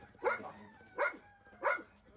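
A hungry dog barks three times at an even, unhurried pace, each bark short and clear, moderately close with no talking around it.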